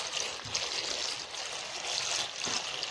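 Tap water running from a faucet into a container of olives, a quiet continuous hissing trickle with soft splashing surges, close by and alone.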